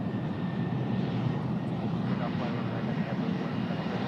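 A fixed-wing airplane takes off from a runway at Tucson International Airport, its engine a steady, broad roar that stays loud throughout, with a voice talking over it.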